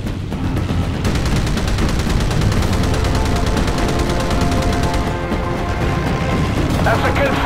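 Naval anti-aircraft guns hammer away in Battlestations Pacific, dense rapid gunfire with heavier thuds mixed in, loud and continuous while radio voices talk over it.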